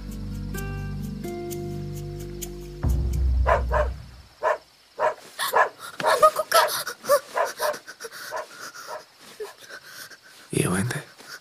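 A dog near a camping tent barks and whimpers in a string of short, uneven yelps and whines, following a stretch of music and mixed with nearby talking.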